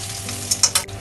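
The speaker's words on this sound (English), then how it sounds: "add more oil, ginger in," Ginger frying in hot oil in a wok for ginger beef char kuey teow, a steady close sizzle with a few louder bursts of crackle and stirring near the end, no voices.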